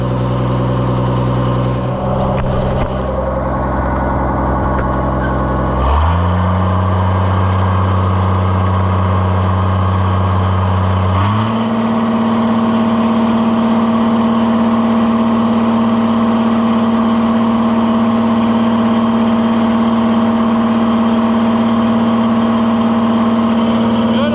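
Oliver 1655 tractor engine running for the first time after an in-frame overhaul, a loud steady idle that steps up in speed twice and then holds a higher, even drone.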